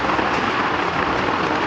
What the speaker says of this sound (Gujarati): ઓહો ભયંકર વરસાદ છે,